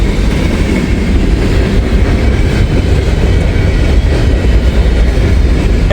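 A freight train passes close by, giving a loud, unbroken rumble of rolling wagons and wheels on the rails, steady throughout, with no talking.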